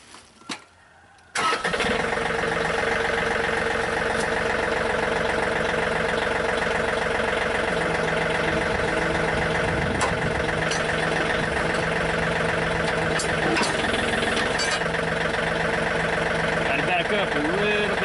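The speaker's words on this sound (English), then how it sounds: "now when I crank the tractor up, you should see the 3-point pull the backhoe in line with the tractor" A John Deere 4105 tractor with a backhoe attached cranks briefly and then catches, settling into a steady, loud, close diesel idle that runs on without a break.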